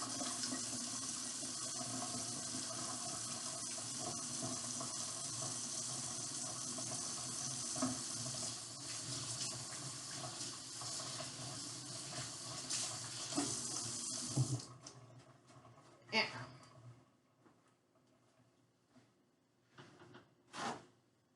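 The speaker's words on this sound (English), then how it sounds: "Let me wash my hands first." Hands being washed under a running tap at a sink, a steady close rush of water for about fourteen seconds, then the flow stops and a few brief splashes and drips follow.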